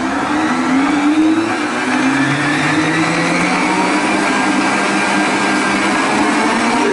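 An electric mixer runs at full speed whipping unsweetened natural cream into chantilly, a loud continuous motor whir with slowly shifting pitch as the beaters churn, no voices.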